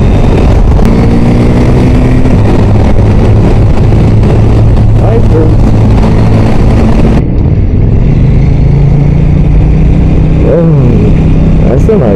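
A naked motorcycle, a KTM 890 Duke R or Yamaha MT-09, roars loudly with its engine and exhaust, steady and close with shifting revs, while a voice talks over it.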